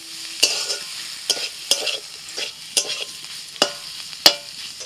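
Chopped tomato and coriander fry in a pan while a spatula scrapes and stirs in sharp, evenly spaced strokes over a low, steady sizzle, close and fairly loud, with no voices.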